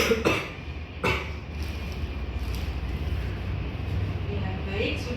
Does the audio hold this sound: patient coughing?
yes